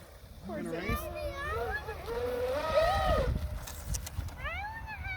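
A Traxxas radio-controlled boat runs on open water, its motor whining from a distance while children talk and call out loudly over it throughout.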